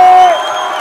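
Crowd at a Brazilian rap battle, Batalha da Leste, roars and cheers loudly in a short burst of whoops and shouts that fades slightly after a moment.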